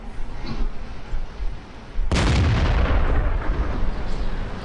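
A heavy tank cannon blast in World of Tanks, a single loud booming shot with a long rumbling decay, preceded by quieter battle noise and faint commentary.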